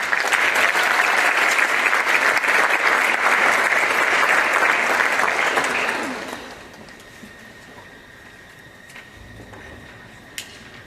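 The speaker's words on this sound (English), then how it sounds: "Please give a round of applause for Charity Nickel." Applause for a scholarship recipient at a school board awards event: steady, full clapping from an audience for about six seconds, then it drops off sharply into quiet room tone.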